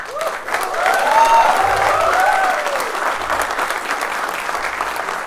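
Audience applause fills a stand-up comedy show, a dense wash of clapping that swells early and stays loud for several seconds before easing slightly.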